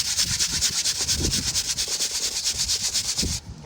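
Repeated rhythmic brushing strokes scrub a dirty car seat belt, a loud, hissy back-and-forth rubbing at a steady pace that stops near the end.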